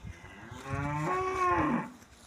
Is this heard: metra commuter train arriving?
no